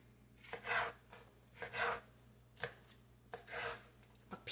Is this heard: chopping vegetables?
yes